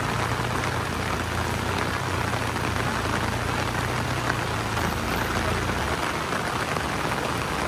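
Heavy rain pours down steadily on a slippery uphill road, a dense, constant hiss with a faint low engine hum underneath, no talking.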